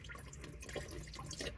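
Car engine oil pours from the drain plug into a drain pan during an oil change, a continuous close splashing and trickling of liquid with dripping bursts, no voices.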